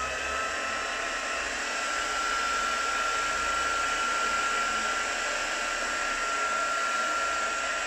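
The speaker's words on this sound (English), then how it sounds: "for purposes of the video I'm going to dry it with a heat tool" Handheld heat tool blowing steadily to dry texture paste on a mixed media craft tag, a continuous loud whooshing hum with a faint whine, unbroken throughout with no talking.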